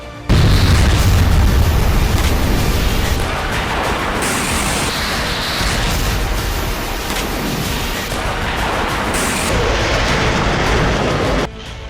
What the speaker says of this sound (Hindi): यूक्रेन ने रूसी पोजीशन को क्लस्टर बम से टारगेट किया।